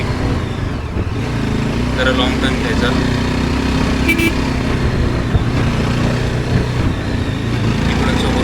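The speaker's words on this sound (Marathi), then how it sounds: "गाड्या भरपूर वेगाने येतात" Cars and taxis on the road at Matheran after the first rain, steady engine rumble and road noise from a ride, with someone speaking over it throughout.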